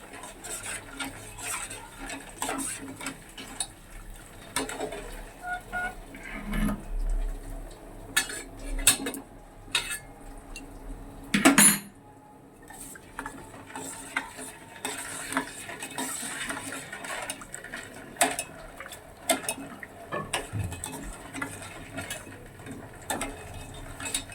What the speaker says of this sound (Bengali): ভালো করে নাড়তে হবে যাতে নিচে ধরে না যায় চিনিটা।